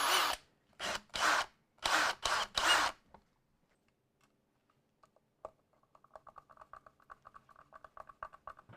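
A drill cuts countersinks into the metal of a guitar, running in several short, loud bursts, followed by quiet, scattered light ticks and taps.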